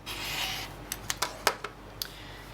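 A quilting strip set of fabric being cut along a ruler: a soft, steady rasping rub followed by a handful of sharp, close scraping clicks, quiet and with no one talking.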